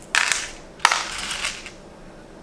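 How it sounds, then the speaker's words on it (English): Pieces of sea glass being sorted into dishes: three bursts of clinking, rattling glass, the first two lasting about half a second each and a brief third one at the end, close and moderately loud with no talk. "now I have some time to do some sea glass sorting"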